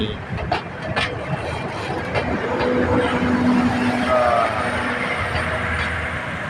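A BTS Silom Line electric train passes through a station in Bangkok with a steady, rising rumble of wheels and carriages close by. Faint tonal whines sound over it.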